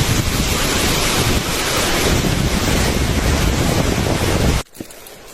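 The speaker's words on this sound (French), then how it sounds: "60 mètres de hauteur pour la chute." The 60-metre Tabuna waterfall in Guinea gives off a loud, steady broadband roar that fills the scene. It cuts off abruptly near the end, leaving quieter background.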